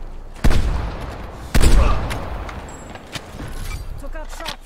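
Gunfire in Call of Duty Cold War: two loud, sharp shots about a second apart, followed by fainter scattered shots and game effects, with a voice talking over them.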